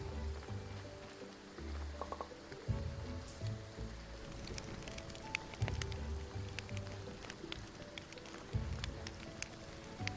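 Steady rain falls outdoors beside something burning, a continuous patter of drops with a soft hiss and scattered louder taps, holding at moderate level throughout with no one speaking.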